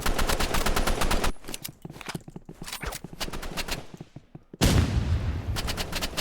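Gunfire in a Roblox game duel, rapid automatic bursts in dense rattling volleys, a sparser stretch of single shots, then another loud sustained burst, all close and loud.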